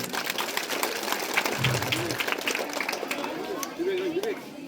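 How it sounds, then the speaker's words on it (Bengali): Clapping from a crowd of students at a school prize-giving ceremony, heard as a busy patter mixed with chatter and voices close by. "5B সেকশন থেকে আমাদের ফার্স্ট সেকেন্ড থার্ড সবগুলোই হয়েছে। তাহলে 5Bর জন্য তোরা একটা খুব জোরে হাততালি দে"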